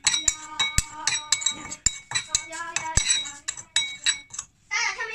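A spoon clinks repeatedly against a glass bowl while stirring ginger, black pepper and paprika, sharp metallic taps in an uneven rhythm, close and clear, with a brief spoken word.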